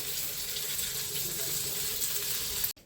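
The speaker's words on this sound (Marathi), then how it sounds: "तेल मिडियमच गरम पाहिजे आपल्याला, आणि त्यामध्ये आता चमच्याच्या साहाय्याने ना आपण असे वडे सोडून घेऊ।" Vadas frying in medium-hot oil give a steady, dense sizzle throughout that stops abruptly near the end.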